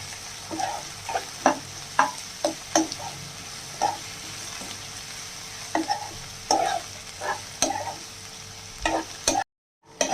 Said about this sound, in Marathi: आता आपण इथे टोमॅटो घालणार आहोत. ते चांगला 30 सेकंद परतून घेऊया.